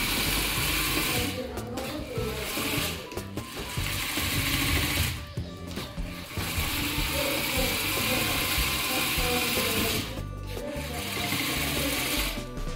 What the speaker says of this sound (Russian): у него тут есть один мотор и еще 6 шестеренок и 4 лопасти, которые могут создавать ветер